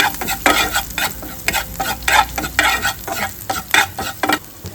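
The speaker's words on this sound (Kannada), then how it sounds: "ಇವಾಗ ಇಲ್ಲಿ ಹಿಂಗೆ ಇದು ಮಾಡಿ ಮಸಾಲೆ ಎಲ್ಲ ಸ್ಪ್ರೆಡ್ ಮಾಡ್ತೀವಿ" Spatula scraping and stirring pav bhaji masala in a hot pan, with steady frying sizzle and rhythmic, close, fairly loud strokes repeating every half second or so; no voices.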